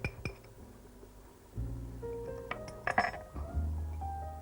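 Several light metallic clinks of a spoon against a dish while pig's trotters are cooked, with sharp pings scattered over a low kitchen rumble, close and moderately quiet.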